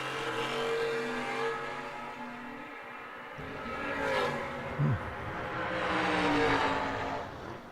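A wheel-standing Chevrolet Camaro accelerates down the strip at an old-time drag racing event, its engine roaring and rising in pitch, then fading and surging again at a moderate distance.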